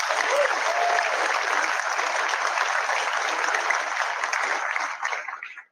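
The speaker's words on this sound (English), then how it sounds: "Let's give us all a round of applause." Sustained applause from a large audience at a UW Law School event, dense steady clapping that holds for several seconds and then tapers off at the end.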